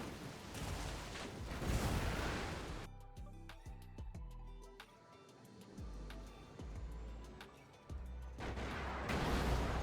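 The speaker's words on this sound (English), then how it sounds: "the Vindicators will drop their bombs, but you need the Sentry Bombers if you want that kill" Bombers drop bombs on a refinery in the strategy game Red Alert 3, heard as dense rumbling blasts and booms followed by a run of sharp rapid impacts, then heavy explosive roar again.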